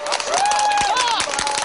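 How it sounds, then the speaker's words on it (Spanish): A group of people applauds at an outdoor picnic that includes soldiers under a military dictatorship, a dense continuous patter of clapping mixed with crowd noise and a few raised voices, steady and fairly close throughout. "¿Puedes decir que estamos aplaudiendo?"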